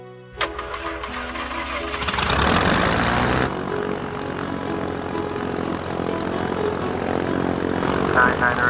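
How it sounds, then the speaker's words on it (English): A Piper Cherokee's propeller engine drones steadily and loudly throughout, building in intensity after a sharp onset and staying continuous with no voices. "Christopher Pierce, who also owned the Piper Cherokee he was flying"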